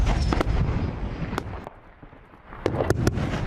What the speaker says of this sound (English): We can still hear intermittent gunfire.